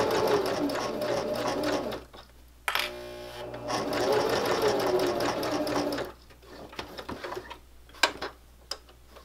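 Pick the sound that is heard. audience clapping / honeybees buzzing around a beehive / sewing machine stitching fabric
sewing machine stitching fabric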